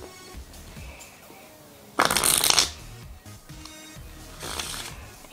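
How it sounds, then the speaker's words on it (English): A new pack of Bicycle playing cards being shuffled: a loud riffling burst near the middle, then a softer second shuffle toward the end, close by with quiet handling noise between. "I'll give them a shuffle"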